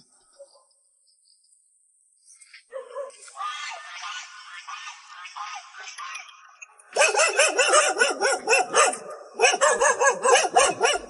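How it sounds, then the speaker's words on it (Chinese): A dog barks near an isolated farmhouse deep in the Guizhou mountains, first faint and scattered, then loud rapid volleys of close barking in two bursts, with birds and crickets faintly behind. "我听到这个狗叫声我都"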